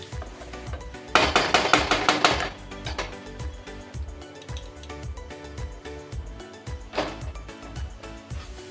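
A metal lid clatters onto a pan of pabda fish cooked with mango kasundi, a loud burst of rattling metallic clinks followed by quieter, scattered taps and knocks.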